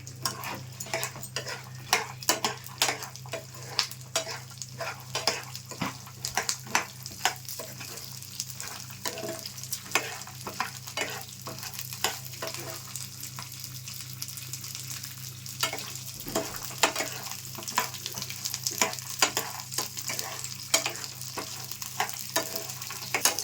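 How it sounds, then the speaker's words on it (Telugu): Peanuts and green chillies fry in a pan over low heat, a steady close sizzle broken by frequent scraping and stirring clicks throughout, with no one speaking. "సిమ్లో పెట్టుకొని పల్లీలును పచ్చిమిర్చి బాగా వేయించుకోవాలండి, మాడకుండా."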